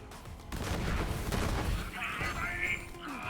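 Borderlands 3 gunfire from a hip-fired weapon in a DLC 2 takedown run, a dense burst of rapid loud shots and blasts over about three seconds, with a brief whining tone near the end.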